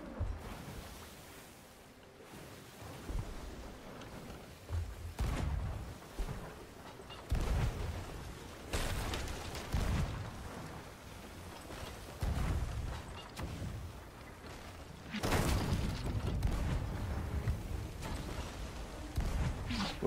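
Cannon fire in the Sea of Thieves video game at sea: a series of deep booming blasts at irregular intervals, moderately loud over a rumbling, wash-like background of waves.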